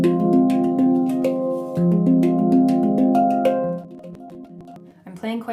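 A handpan struck quickly and firmly in a rapid run of ringing metallic notes with overlapping sustained tones, close up, trailing off into a few lighter taps near the end.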